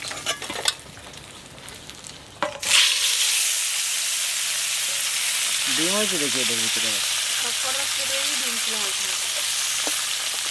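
Bhola fish and fish roe fry in hot oil, a loud, steady sizzle that bursts in after a quiet start and holds for the rest of the clip while a voice talks briefly over it midway.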